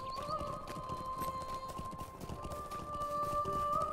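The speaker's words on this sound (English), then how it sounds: "A nice horse." Horse hooves clip-clop in a steady trotting rhythm in the online game Lord of the Rings Online (LOTRO), fairly close, with a faint whinny and sustained tonal game sounds underneath.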